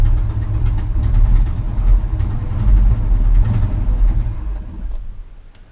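A Chevrolet C30 shop truck with a big-block engine and a misfire idles close by, giving a loud, steady low rumble with an uneven pulse that eases off toward the end.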